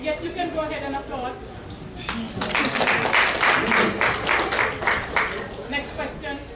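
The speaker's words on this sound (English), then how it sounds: "Yes, you can go ahead and applaud." An audience at a wellness symposium panel discussion breaks into applause, a steady patter of many hands clapping that swells and carries on under and after a speaking voice.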